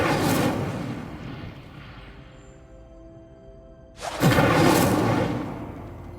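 A burst of fire from the Incendio spell being cast in Hogwarts Legacy: a loud, rushing flare that fades into a low rumble, then surges again with a second roaring blast.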